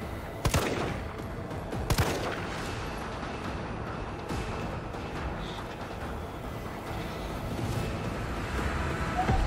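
Gunfire aimed at Nemesis in the video game Resident Evil 3 rattles on as a dense, steady stream of shots with a couple of sharper cracks early on, loud and continuous under rumbling game noise.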